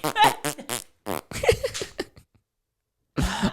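A rapid string of cartoonish fart sound effects: several short, buzzy blasts of differing pitch in quick succession, a longer wet sputter, a pause of silence, then one more loud burst at the end.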